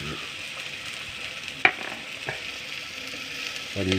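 Onions fry in a pan with a steady, even sizzle, broken by a single sharp clink of a utensil partway through and a brief stir near the end, close and moderately loud.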